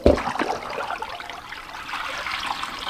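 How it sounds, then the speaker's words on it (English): Water from a bowl of soaking washed garden greens poured out in a short splashing trickle, close and moderately loud, tapering into a soft continuous dribble. "Just gonna dump out the water."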